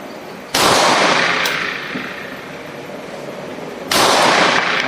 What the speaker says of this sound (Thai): ยิงแล้วไม่ผิดหวังแล้วก็ยิงได้เร็วชอบยิงทะลุนะครับ